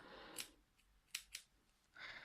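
Scissors snipping short fur around sculpted toes, a few quick crisp cuts close up, separated by brief pauses in a quiet setting.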